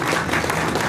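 A roomful of guests applauds to welcome a hotel chain chairman to the podium at a strategic-alliance and plaque-unveiling ceremony; the clapping is loud, continuous and fills the whole short moment.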